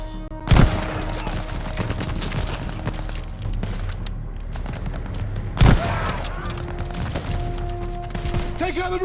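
Automatic machine gun fire from a German half-track in the WWII shooter Call of Duty Vanguard, loud rattling bursts with two sharp heavy blasts among continuous battle noise.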